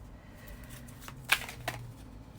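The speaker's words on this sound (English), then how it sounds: "And shuffling more to get our pile 2 card." Tarot cards are shuffled by hand, giving soft papery riffles and a couple of sharper snaps over a quiet room.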